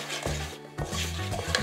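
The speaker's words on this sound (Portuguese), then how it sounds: "Vou mexer bem até misturar." A whisk beating a pastry cream mixture of sugar, salt and vanilla in a metal bowl, giving quick rhythmic clinking and scraping strokes with a brief pause midway, close and clear with no voices.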